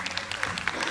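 Cheerful applause for the band at a live show, a brief burst of steady clapping from an audience with voices faintly mixed in.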